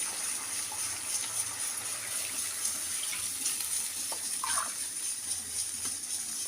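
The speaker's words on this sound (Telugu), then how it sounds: "దీంట్లో 2 గ్లాస్ వాటర్ వేసేస్తాం" Water pours steadily in a continuous gushing stream into a cooking pot for rava pongal, moderately loud, with faint clinks in the background.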